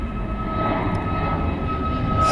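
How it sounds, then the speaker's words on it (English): Emirates passenger jet departing Birmingham Airport, its engines giving a steady, loud, continuous roar that holds level throughout with no speech. "So we've got to just wait for that plane to go over."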